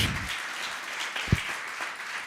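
A church congregation applauds, a steady wash of clapping from many hands that holds for a couple of seconds with no voices over it.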